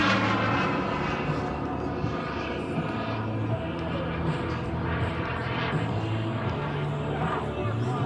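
Steady droning engine of a 2.1-meter radio-controlled F-86 model jet flying overhead at an RC airfield, continuous and fairly loud with faint talk beneath.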